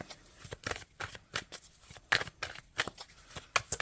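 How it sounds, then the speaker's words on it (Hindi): Tarot cards being drawn and shuffled from a deck in a general reading: a string of short papery flicks and riffles in uneven bursts, close and fairly quiet, with no voices. "मैं लास्ट कार्ड निकालूंगी।"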